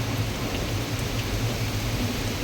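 Heavy rain pours down steadily in a dense, unbroken roar, close and loud, with no voices.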